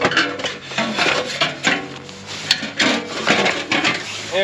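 Exhaust muffler being worked out of its rubber hangers on a 2024 Polaris RZR XP 1000: close metallic scraping, clunks and rubbing in irregular bursts, with short knocks and creaks.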